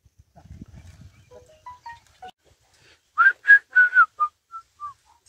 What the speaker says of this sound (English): When I whistle, they stop.